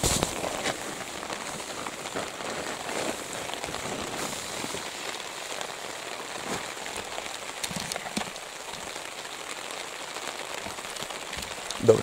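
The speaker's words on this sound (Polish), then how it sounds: "znowu zaczyna padać" Rain drums steadily on a trapezoid shelter overhead in a forest at night, a constant hiss of drops with scattered sharper taps, close by and without voices.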